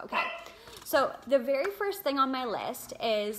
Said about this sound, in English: Please excuse the yappy dog.